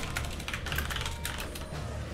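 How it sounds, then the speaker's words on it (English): Rapid keystrokes on a computer keyboard during a gaming session, a quick irregular clatter of clicks close to the microphone over a low background hum, with no talking. "Typing."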